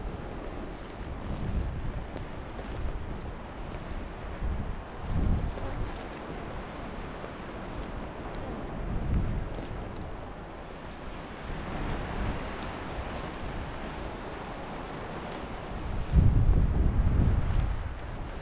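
Wind blowing at sea, rumbling in loud gusts against the microphone over a steady wash of waves, with no one speaking.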